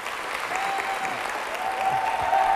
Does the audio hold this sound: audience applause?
yes